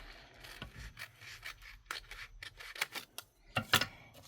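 Cardstock being trimmed for a handmade card, a quiet series of close rasping snips and paper rubs in irregular bursts, with no talking.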